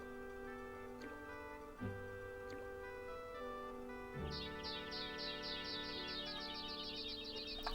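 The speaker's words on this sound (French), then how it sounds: "il y a des sons d'oiseaux comme ça, ou un sifflet, et c'est ça qui est utilisé pour faire le chant de l'oiseau." Synthesized General MIDI birdsong from the Amiga-era adventure game Day of the Tentacle plays amid layered electronic music tones, with rapid repeating chirps entering partway through over steady sustained notes.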